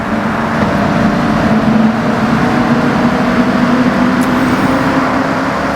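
A car engine drones steadily inside a long rounded tunnel in the Forza Horizon 6 racing game, its sound reflecting off the walls as a loud, continuous reverberant hum with no talking.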